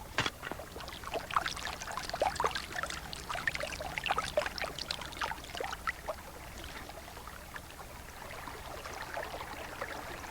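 Water sloshes and trickles as sand and gravel are rinsed in a gold pan at an Alaskan placer mine, a faint, continuous wet splashing with gritty swirls and no voices.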